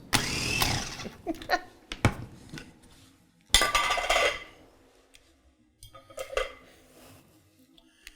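Homeleader 5-cup mini food chopper pulsing fresh parsley: a few short loud motor bursts with rattling blade and bowl, separated by quiet gaps and light clatter, no talking.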